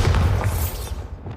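A Bombarda spell blast in Hogwarts Legacy, heard as a short, loud booming explosion with a dense low rumble that fades within about a second, no voices over it.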